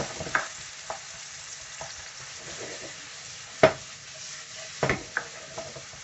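Onions frying in hot oil in a pan for a chicken jalfrezi, a soft steady sizzle with occasional sharp scrapes and clinks of a utensil stirring against the pan.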